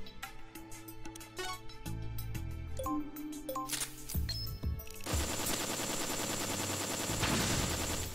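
In the Metal Gear Acid video game, a gun camera fires rapid bursts of gunshots, followed by a dense stretch of layered game effects and music.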